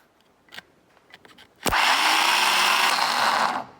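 A few faint clicks, then a reconditioned engine starter motor on a bench whirs up loudly and spins at a steady high pitch for about two seconds before cutting off.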